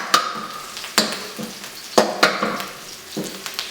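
Garlic fries in oil in a pan for a Thai beef pad krapow, sizzling steadily beneath several sharp clacks of a utensil stirring and striking the pan.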